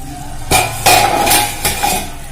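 Metal clanks against a cooking pot of malai matar paneer as the lid goes on, a few sharp ringing knocks close by, with no talk.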